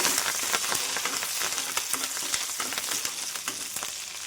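Curry leaves and green chillies sizzle loudly in hot oil, a dense, crackling fry with rapid pops throughout.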